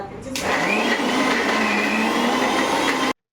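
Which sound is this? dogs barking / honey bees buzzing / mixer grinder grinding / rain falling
mixer grinder grinding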